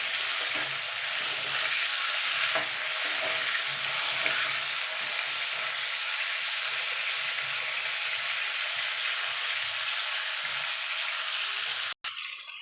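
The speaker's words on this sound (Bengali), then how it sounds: "এবার আলু আর পেঁপেটা ভালো করে একটুখানি ভাজা ভাজা করে নেবো" Potato and papaya pieces frying in a pan for a thin rohu fish curry, a steady close sizzle running throughout with a brief clatter near the end, no talking.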